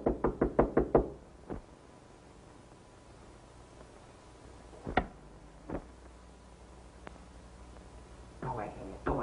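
A rapid burst of five or six knocks on a door, followed by scattered single thumps and creaks against a hissy background, in an old 1933 radio-drama recording.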